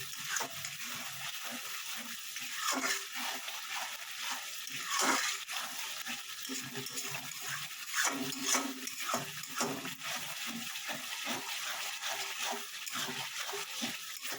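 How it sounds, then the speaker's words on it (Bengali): Soft, continuous sizzling of spice paste being sautéed in a pan for lote fish jhaal, with intermittent scraping and stirring strokes of a spoon against the metal throughout. "মশলাটা একেবারে কষা কষা হয়ে এসছে, আর একটু কষবো"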